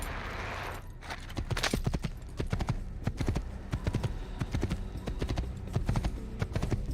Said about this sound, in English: The back legs of the horse just look wrong as they gallop in.